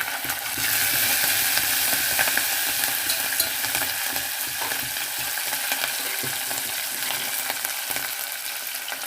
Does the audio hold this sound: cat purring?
no